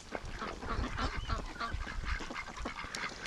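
Muscovy ducks on a farm call in a steady run of harsh, breathy honking and hissing sounds, close and continuous with overlapping birds, and no talk.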